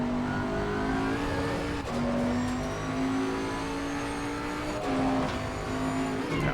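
A 2020 Bentley GT3 race car engine from Assetto Corsa Competizione runs steadily at high revs on the Hungaroring, its pitch shifting with gear changes and throttle, loud and continuous with no voices.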